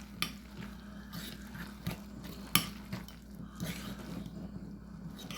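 A utensil scrapes and taps against a dish while canned salmon is stirred together with egg, a soft, close sequence of irregular clinks and wet mixing sounds.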